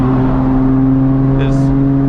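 MK4 Toyota Supra with over 1000 hp downshifting into third gear, a steady loud engine drone with strong low harmonics throughout and a brief higher whir near the end.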